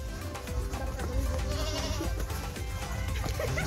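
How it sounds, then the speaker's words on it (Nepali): A goat bleats nearby on a farm, its wavering cries standing out over steady outdoor background noise, with no talk over the sound. "यहाँनिर चाहिँ बाख्रा छ है"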